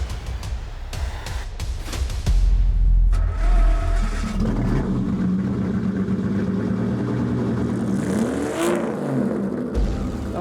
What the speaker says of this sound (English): this is the actual car that produced the sound for the film